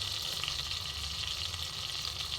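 Black mustard seeds, cumin and dried chillies crackle and sizzle steadily in hot oil for a tempering, a dense continuous frying hiss close up with no talk.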